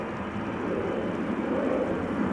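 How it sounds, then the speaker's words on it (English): A LOT Polish Airlines Embraer 195 jet takes off from the centre runway at Amsterdam Schiphol, a steady, loud roar of engines that holds at an even level throughout. "Taking off from center is a Lot Embraer going to Warsaw, Embraer 195."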